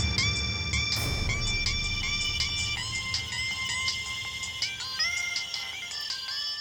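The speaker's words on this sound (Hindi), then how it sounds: "ये किस बुड़बक का फोन टुनटुना रहा रे?" A phone ringtone plays a repeating electronic melody of bright chiming notes, steady and fairly close, with a single soft thump near the start.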